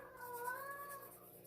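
A female cat in heat gives a long, loud wavering meow that rises and falls in pitch, close by and alone, with no talk over it.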